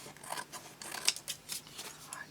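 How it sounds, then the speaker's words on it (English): Scissors snip through card-making paper in quiet, close, irregular cuts, a few crisp snips over a soft, faint background. "if I use my bigger scissors, it's so much easier"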